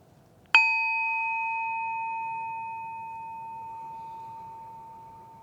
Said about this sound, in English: listen to the sound of the bell